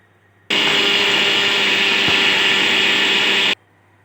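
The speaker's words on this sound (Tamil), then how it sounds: "இதையும் நாம் வந்து இப்போ நம்ம நைஸாக அரைச்சிக்கலாம்" Kitchen mixer grinding black kavuni rice finely, a loud steady high whir starting abruptly, running about three seconds without change, then cutting off into quiet.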